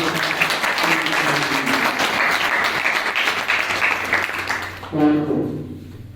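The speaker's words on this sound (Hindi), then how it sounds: "एक बार इनके लिए जोरदार तालियां" An audience at a school competition claps loudly and steadily for about five seconds, then a voice speaks as the applause stops.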